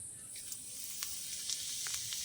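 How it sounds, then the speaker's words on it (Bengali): White cumin seeds frying in hot oil for tempering, a steady soft hiss and crackle with tiny pops scattered throughout, close and quiet, no voices over it. "একই তেলের মধ্যে ফোড়ন দিয়ে দেবো এই যে নিয়েছি সাদা জিরে"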